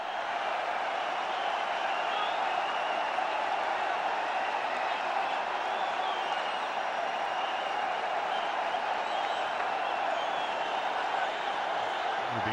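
Crowd at a 2008 India vs England one-day cricket match applauding Yuvraj Singh's hundred, a steady, dense wash of clapping and cheering from a large stadium audience that holds at an even level throughout.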